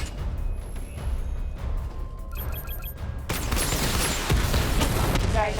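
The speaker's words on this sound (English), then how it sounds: "Missile barrage level 2 ready." A missile barrage fired from the Batmobile in Batman Arkham Knight on PC unleashes a dense, crackling volley of launches and blasts that swells loudly after a quieter mechanical lead-in, with game voice briefly present.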